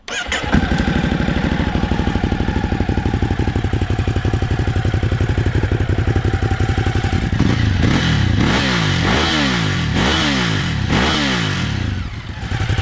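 A Ducati Hypermotard 950 RVE engine starts and idles with a steady clatter, then revs up and down repeatedly, loud and close.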